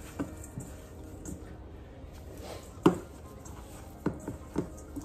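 Seasoning being mixed by hand into raw hamburger meat, soft squishing and occasional wet slaps and taps at close range, with a sharper impact near the middle.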